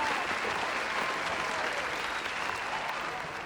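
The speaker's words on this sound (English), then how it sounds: "So let us all clap for each other" Steady applause from an audience at a university gathering, a dense, even wash of many hands clapping together that fades slightly at the end.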